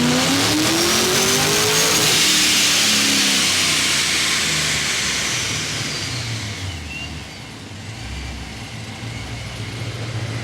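A drag car engine revs hard on a dyno, rising to a loud, strained roar over the first couple of seconds, then holds a sustained, slightly fading howl. The engine is close and dominates with no voices.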